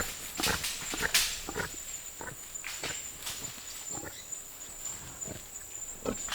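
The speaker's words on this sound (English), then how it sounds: "The fearsome faces of the intruders mask nothing more dangerous than a pig, the strange babirusa." A babirusa pig snuffles and grunts in short, irregular bursts in a Southeast Asian island forest, close but fairly quiet, with rustling steps between the snorts.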